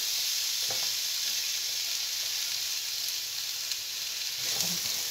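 Vegetables sizzle steadily in hot oil, about four tablespoons' worth, for a fideuà, a continuous bright frying hiss with a few soft stirring clunks, close and alone.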